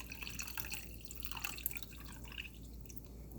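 Partly frozen enchilada sauce drips and trickles into a dish, a faint, close, irregular patter of small wet drops over a low steady hum, with no talk.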